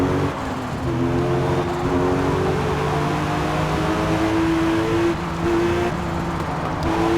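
A race car engine drones on the Silverstone circuit in Forza Motorsport, its pitch climbing through the gears with steady rising harmonics, loud and continuous with brief shifts.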